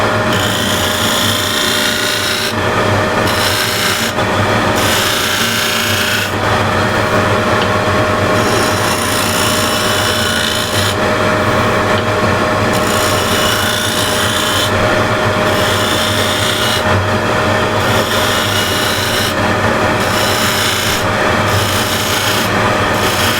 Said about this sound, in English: So this is now done with the shear scraper